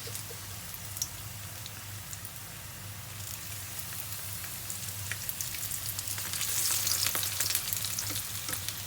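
Quail egg wontons deep fry in oil, giving a steady dense sizzle and crackle that swells a little louder near the end, with no talk.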